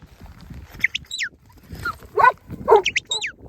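A young working sheepdog pup on a grazing farm gives short barks and whimpering yelps in quick bursts, close by, with other faint animal noises around.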